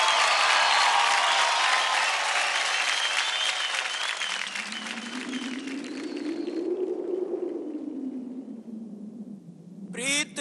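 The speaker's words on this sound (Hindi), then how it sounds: "तो जबरदस्त तालियों से स्वागत कीजिए" Loud audience applause and cheering at a televised dance competition, a dense sustained roar that gradually fades while a low voice or music swells underneath, ending with a brief burst of bright sound.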